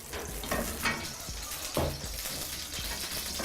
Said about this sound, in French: On commence par faire revenir nos oignons.